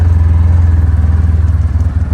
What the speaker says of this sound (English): just goes to show you how good the engine braking works on this thing.